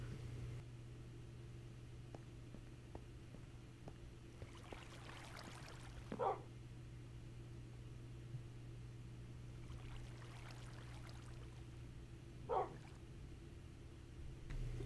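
A tamed dog in Minecraft gives two short barks several seconds apart over a steady low hum and faint background ambience.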